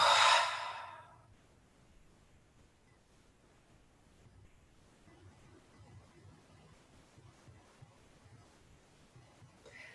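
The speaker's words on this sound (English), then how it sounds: "Take a deep breath in and exhale." A single deep exhaled breath, a soft broadband whoosh lasting about a second at the start, during a guided meditation, followed by quiet room tone.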